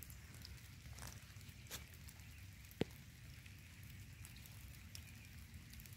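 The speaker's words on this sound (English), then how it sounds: "It's raining." Rain falling outdoors beside a garden, a steady soft patter of drops across the whole stretch with one sharp nearby drip-like tick partway through; no talking.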